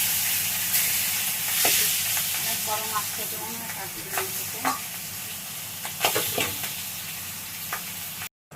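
Pieces of a large fish fry in hot oil in a pan, giving a steady, close sizzle with soft stirring scrapes throughout. Someone speaks quietly over the frying.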